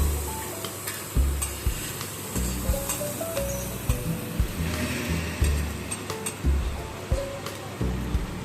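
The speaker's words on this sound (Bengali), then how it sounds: "এগুলো ভাজা হচ্ছে" Onions, green chilies, tomato and capsicum fry in a pan in a restaurant kitchen for chicken chaap, with a steady close sizzle and repeated scraping stirs throughout.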